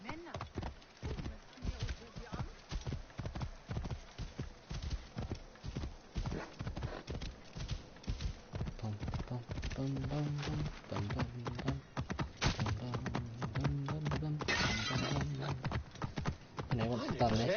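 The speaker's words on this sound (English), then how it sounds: "Let's go, horsey." A horse trots in Assassin's Creed Origins, its hooves clip-clopping in a quick, even rhythm throughout, with a voice talking over it partway through and a faint whinny-like tone later.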